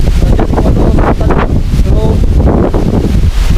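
Loud, steady strong wind roaring and buffeting the microphone near an abandoned hospital, with rustling and a faint voice underneath.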